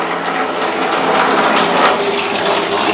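Water gushing from the tap of an instant water heater, a loud, steady rushing flow close by with a faint mechanical whir underneath, no talking.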